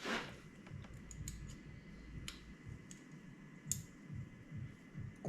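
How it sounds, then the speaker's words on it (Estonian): The electrical connector on an ignition coil of an Audi S4 B6 V8 snaps into place, with several small, sharp plastic clicks close by amid quiet background hiss, no talking. "kuuled, et klõps käib ära, siis on klemm õige koha peal."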